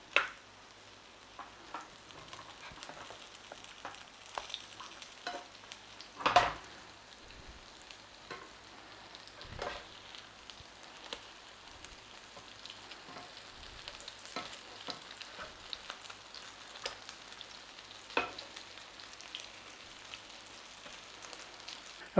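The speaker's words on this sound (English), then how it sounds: "So you just turn them over until you get the golden crispiness that you actually like." Corn fritters fry in a pan with a steady, quiet crackling sizzle, broken by a few sharper taps and scrapes as they are turned over; no one speaks.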